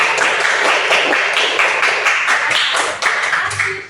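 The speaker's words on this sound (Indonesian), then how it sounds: "Ya, tepuk tangan" Pupils in a Hindu religious education class clap together at close range, a loud dense patter of many hands lasting several seconds before trailing off at the end.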